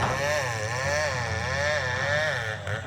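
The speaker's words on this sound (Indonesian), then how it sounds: "itu nampak ada suara mesin potong, mesin senso yang sedang membersihkan lahan-lahan yang ada kayu-kayu besarnya" A chainsaw clearing land with large trees for a new cattle-farm site rumbles continuously at moderate distance, its engine pitch wavering up and down in a steady, rolling drone.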